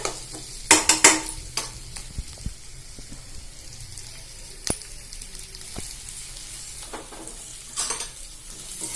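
Idli upma sautéing in a pan makes a continuous light sizzle while a spoon stirs it. Several sharp scrapes and clinks of the spoon against the pan stand out close by, and no one speaks.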